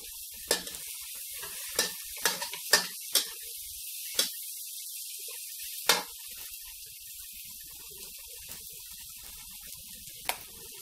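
Tomatoes fry in hot oil for sambal sotong with petai, a steady bright sizzle punctuated by several sharp stirring clicks of a utensil against the pan.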